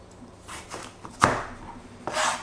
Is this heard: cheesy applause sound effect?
no